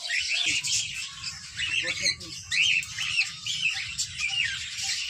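A crowd of colourful birds in a zoo aviary squawks and chirps nonstop, shrill calls overlapping close by above a low, steady background rumble.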